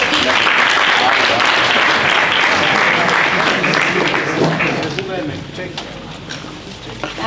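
An audience applauds a software engineer from CSIR at a security summit ideathon, with dense, loud clapping that fills the room and then thins toward the end, with a voice speaking over it.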